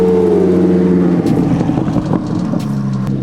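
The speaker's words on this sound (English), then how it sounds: "Listen to that V8. They put a big exhaust on it." Deep, loud rumble of a former police car's V8 engine through a big exhaust, idling heavily and then burbling with uneven revs, close by.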